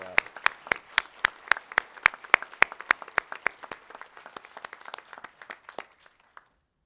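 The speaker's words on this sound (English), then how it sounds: "may I invite you to give a big applause to all our wonderful awardees who deserve these awards well" Audience applause for award winners at a scientific awards ceremony: a thin, sparse scattering of individual hand claps, sharp and fairly close, tapering off and ending after about six seconds, with no voices over it.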